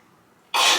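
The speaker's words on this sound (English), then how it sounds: "I just had a sneeze just out of nowhere" A single sudden sneeze bursts out loud and close after a near-silent moment, then carries on as a sharp, breathy blast to the end.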